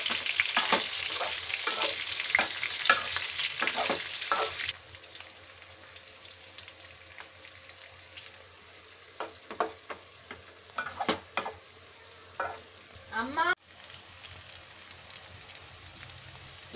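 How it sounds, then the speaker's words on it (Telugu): Stuffed capsicums fry in a generous amount of oil over a low flame, with a loud bright sizzle and taps at first, then a softer simmering hiss broken by intermittent scraping and clatter of turning. "ఇవి సిమ్లో పెట్టుకునే వేయించుకోవాలి."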